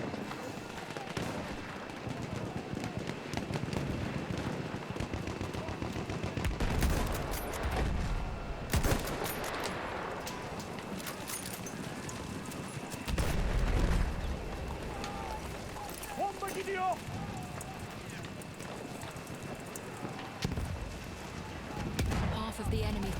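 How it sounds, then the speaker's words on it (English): Gunfire in a Battlefield 1 multiplayer match, with scattered distant shots and bursts through a noisy battlefield, including bolt-action sniper rifle fire, with a few louder cracks standing out. "let's have another go with the sniper, with the bolt action"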